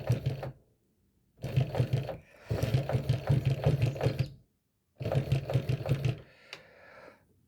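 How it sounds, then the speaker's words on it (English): A Falak FK-114 chainstitch embroidery machine runs in three close, loud bursts of fast rhythmic needle clatter, separated by brief silences, followed by a short mechanical click at the end. "We start to sew."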